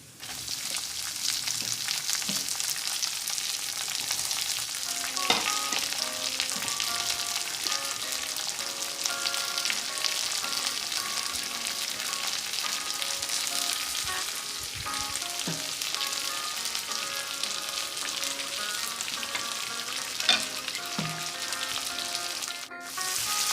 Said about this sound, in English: Keep a pan on the stove and add some oil. When it is heated, add mustard seeds and other items one by one